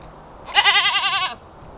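A single goat gives one loud, wavering bleat lasting under a second, close by outdoors near its goat house, with quiet background before and after.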